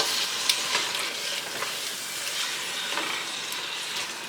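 Spices being stirred into a sizzling pan while making birria: a continuous loud hiss of frying with light scraping of the stirring utensil over it, close up and without talk.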